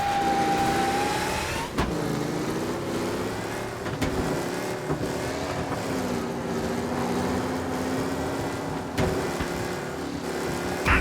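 A car driven around Central Island in the Mafia Definitive Edition video game, its engine a loud, steady drone that rises and falls with gear shifts and acceleration, with no talking.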